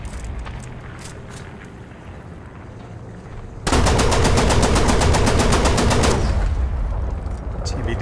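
Rapid automatic anti-aircraft fire from a Flakpanzer I in War Thunder ground battle hammers out as a loud, fast, continuous burst lasting a few seconds, following a quieter stretch of engine and ambient noise.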